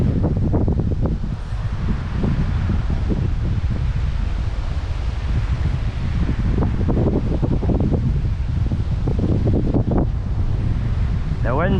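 Strong night wind roars steadily across the microphone at a salmon fishing spot, a loud, continuous rushing with gusty surges and no letup throughout.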